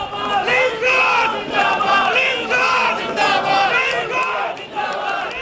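Party workers crowded outside the main gate of a NAB court chant slogans loudly in unison, a dense rhythmic crowd roar rising and falling in repeated surges that carry steadily throughout.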